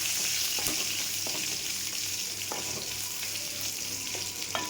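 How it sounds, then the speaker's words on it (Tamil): Garlic and a piece of ginger sautéed in hot oil, giving a steady close sizzle broken by sharp stirring scrapes against the pan at irregular intervals. "இந்த பூண்டும் இந்த ஒரு துண்டு இஞ்சியும் போட்டுக்கோங்க. அதையும் நல்லா வதக்கி வச்சுக்கோங்க"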